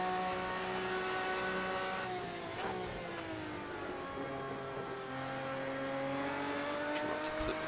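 A Group C race car engine at Hockenheimring in Project Cars 2 revs hard and shifts through gears, its steady rising drone dipping and climbing again over several seconds, loud and close.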